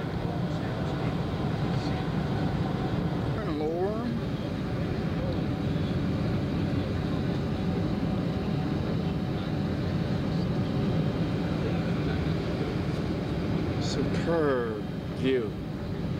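Steady airplane cabin noise in flight aboard a 1988 U.S. Air Force plane, a continuous low roar and hum filling the background, with people talking over it.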